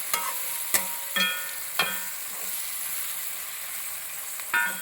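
Coriander powder in a frying pan is stirred with a spoon or spatula, giving several sharp scraping knocks at irregular intervals over a faint, steady frying hiss, with no one speaking.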